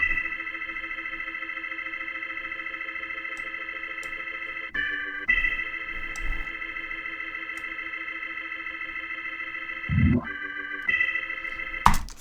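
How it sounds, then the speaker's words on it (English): A UAD Waterfall B3 organ plug-in on a fluty preset with bass vibe holds long sustained chords that change a few times, with a quick glissando sweep near the end, heard alone and clean. "the organ is from the Waterfall B3 organ from UAD"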